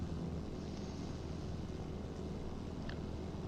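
Helicopter flying in Arma Reforger, a steady, faint rotor and engine drone holding evenly throughout with no voices over it.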